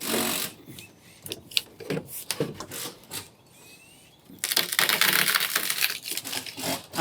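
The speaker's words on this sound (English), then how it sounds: "I'm just gonna take a pry bar and pry this up so I can get the screws exposed in the deck" A pry bar works up old deck boards during a deck demolition, giving irregular creaks, knocks and cracking wood bursts, then a louder stretch of grinding, splintering noise near the end, close by with no talk.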